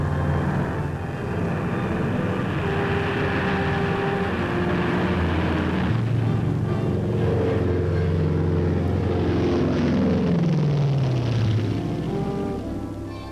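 C-54 transports and C-119 Flying Boxcar military transport planes in flight carrying paratroopers, a steady loud propeller engine drone with shifting tonal hums running throughout.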